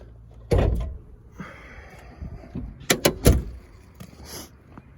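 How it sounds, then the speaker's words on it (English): Hood of a 1989 Laforza SUV being opened: a sharp latch clunk early on, then rustling and several quick metallic clicks and thumps close by, no talk. "So I'll open up the hood."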